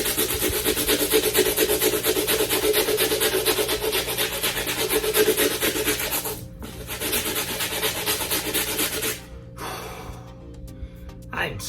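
Stiff brush scrubbing a sneaker midsole in rapid back-and-forth strokes, a close, loud rasping rhythm that pauses briefly twice before resuming with a faster pace.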